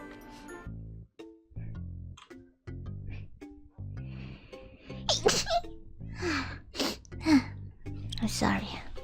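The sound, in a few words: sneeze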